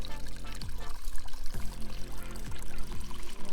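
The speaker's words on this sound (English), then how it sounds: "we're going to rinse out the roots to expose the roots for better plantation" Water pours steadily to rinse the roots of a root-bound Swiss chard plant outdoors, a continuous close splashing with a few gurgling changes in the flow.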